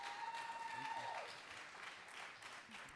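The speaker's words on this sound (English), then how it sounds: "Please give another round of applause for Letta Neely." An audience claps for a speaker at a community talk, a dense, sustained patter of many hands heard from a distance at low level, with a voice speaking over the start.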